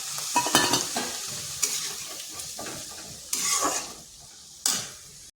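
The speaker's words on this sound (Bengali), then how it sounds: "এরপর এখানে সামান্য একটু জল দিচ্ছি, বাটি ধোয়া জলটা দিয়ে দিচ্ছি।" A little water is poured into a pan of frying potatoes and kundri, setting off sudden loud sizzling bursts amid close stirring and scraping in the pan.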